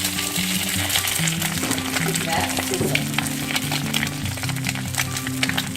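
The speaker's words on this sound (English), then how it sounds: "So you just crack it and then you open it up right into the pan." An egg cracked into a hot pan fries sunny-side up, giving a steady, close, continuous sizzle and crackle with no voices over it.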